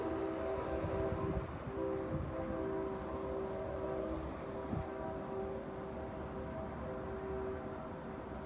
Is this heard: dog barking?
no